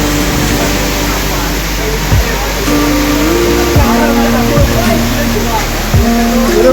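Strong wind and heavy rain batter a road in a violent storm, a loud steady roar of wind and downpour filling the whole stretch, with low rumbles and a few brief swoops of passing traffic beneath it.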